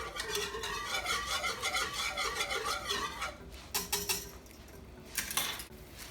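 Chicken and herbs stirred in a pan for a one-pan chicken francaise, giving a steady run of close scraping and clinking of utensil on metal, then a few sharper separate clatters near the end.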